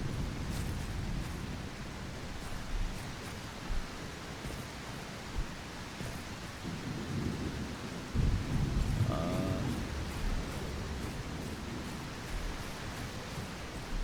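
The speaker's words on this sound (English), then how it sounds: "Maybe because it's raining?" Steady rain hisses throughout a stormy scene in the video game Voin, with low rumbles of thunder swelling in the background, continuous and fairly loud with no talking.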